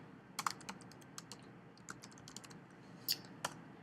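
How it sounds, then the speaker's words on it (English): Typing on a computer keyboard, a scattered run of light key clicks with one or two sharper taps, faint and close, over quiet room noise with no voices. "let's go ahead and just type this one in"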